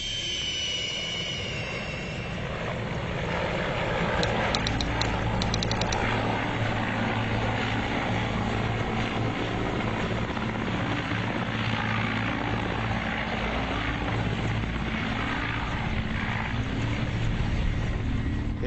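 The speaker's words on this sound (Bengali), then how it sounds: "হেলিকপ্টার আকাশে উড়ল বেলা 12:15টায়" A helicopter bound for a remote hilly area at the far edge of Bangladesh roars loud and steady, with a low rotor throb and a broad engine rush that builds over the first few seconds and then holds constant.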